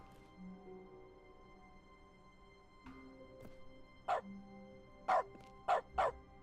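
Dog barking in dog mode of The Stanley Parable: Ultra Deluxe, four sharp barks in quick succession toward the end after a quiet stretch of faint game tones.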